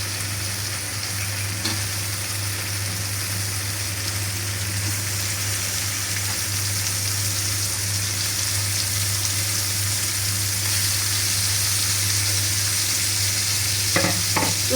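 Liver fries with spices in a wok, a loud, steady hiss of sizzling oil that stays even throughout, with faint stirring clinks near the end and no talking.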